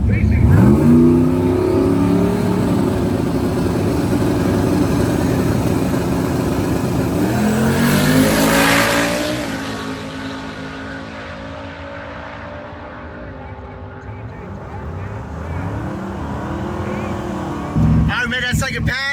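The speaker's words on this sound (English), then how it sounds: "The turbocharged 78 Fairmont station wagon" A turbocharged 1978 Ford Fairmont station wagon makes a loud drag racing pass, its engine revving and climbing through the gears before easing off, with people talking over it throughout.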